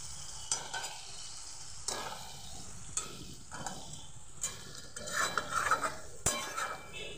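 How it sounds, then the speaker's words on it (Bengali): Spice masala for mutton liver curry, with chilli and coriander powders and ground paste water, being stirred and fried in a pan: repeated scraping strokes of a spoon over a steady close sizzle, with occasional utensil clinks and no talk. "নেড়ে চেড়ে খুব সুন্দরভাবে আমি কষিয়ে নিয়েছি।"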